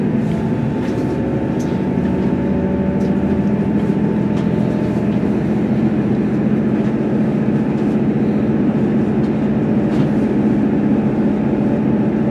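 A passenger train runs along the Cambrian coast line towards Pwllheli, a steady loud rumble of wheels and engine with a faint tonal whine, continuous and close throughout.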